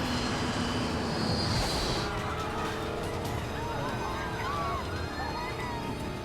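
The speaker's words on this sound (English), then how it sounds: "The plane is losing altitude and falling out of the sky." Jet airliner engines roaring as the plane loses altitude and falls from the sky, a loud, continuous, heavy roar with whining tones drifting on top.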